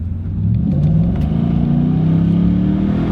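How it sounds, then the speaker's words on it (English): A Nissan Titan pickup truck's V8 engine accelerates with a steady, rising low rumble that climbs in pitch as it pulls, heard up close from inside the cab with no talking. "Well, it does have a V8 engine."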